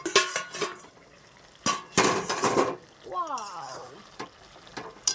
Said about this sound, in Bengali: তো বন্ধুরা ঢাকাটা খুলে দেখে নেবো কতটা সিদ্ধ হয়েছে